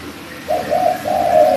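A pigeon or dove gives soft, repeated cooing calls, two or three rolling hoots that sit close and moderately loud over a quiet outdoor background.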